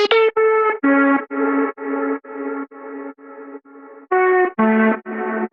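Synth lead line with its high frequencies filtered off, from an electronic dance track remake: a run of sustained, harmonically rich notes in rhythmic chunks, each sounding alone with no talk.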